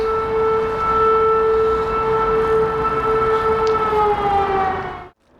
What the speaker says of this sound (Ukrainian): Все було гарно, але почалась повітряна тривога.